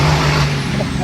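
A diesel Ram truck with an S467 turbo idles with a deep, steady rumble heard from inside the cab, close and loud, with a constant low hum and a faint whistle above it.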